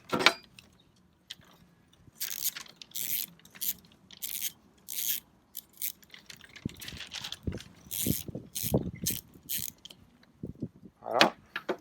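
A Favero Assioma power pedal is unscrewed from a bike crank with a wrench, producing intermittent metallic ratcheting and creaking clicks in short bursts, with quiet gaps between turns.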